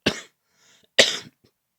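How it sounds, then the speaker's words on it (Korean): A man coughs twice, close and loud, with a short pause between the coughs, during a church sermon. "저도 기침을 최대한 참고 최선을 다해 보겠습니다"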